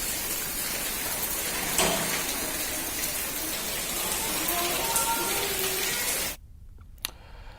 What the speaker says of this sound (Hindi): बारिश के साथ साथ यहां पर तेज हवाएं भी चल रही हैं।